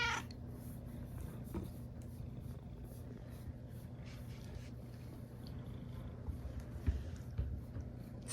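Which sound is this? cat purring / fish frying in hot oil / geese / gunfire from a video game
cat purring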